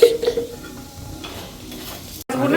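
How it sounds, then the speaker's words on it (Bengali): Paratha being turned and fried in ghee in a pan, with a soft sizzle, spatula scraping and a quick clatter against the pan at the end. "ঘি দিয়ে মানে জাস্ট একটু উল্টে পাল্টে নামিয়ে দেবো"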